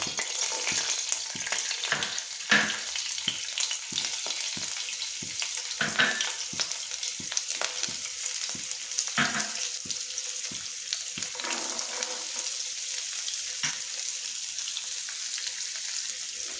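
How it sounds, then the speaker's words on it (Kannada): Mixed vegetables for spicy masala Maggi fry in hot oil in a pan, with a constant close sizzle broken by regular clacking strokes of a stirring spatula. "ಇವಾಗ ಒಂದು ಪ್ಯಾನಿಗೆ ಎಣ್ಣೆ ಹಾಕ್ಕೊಂಡು, ಎಣ್ಣೆ ಬಿಸಿ ಆದಮೇಲೆ ಎಲ್ಲ ಥರ ವೆಜಿಟೇಬಲ್ಸ್ನ ಆ್ಯಡ್ ಮಾಡೋಣ"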